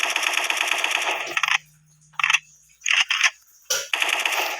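A Gatling gun rattles in a video game in dense rapid-fire bursts, one long stream, then short choppy volleys separated by silences, ending with another sustained burst.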